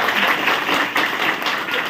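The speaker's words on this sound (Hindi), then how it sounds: "फ्रेंड्स, एक जोरदार ताली होनी चाहिए मीरा मैडम के लिए।" A crowd applauding for Meera madam at a stage event, brisk continuous clapping, loud and close with slight swells, no talk over it.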